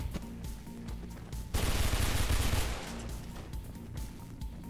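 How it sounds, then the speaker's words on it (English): Gunfire in the first-person game Mirror's Edge breaks out as a dense, rapid burst lasting about a second, loud against a quieter background of low game ambience and scattered impacts. "I'm being shot, I don't even know where from."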